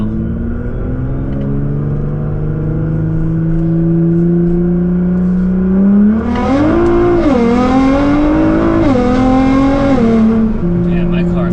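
Nissan GT-R engine pulling hard under turbo boost, a steady loud drone whose pitch climbs, dips and climbs again through several surges, close and continuous, with no talking over it.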